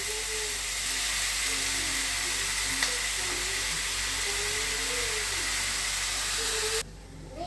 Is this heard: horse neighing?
no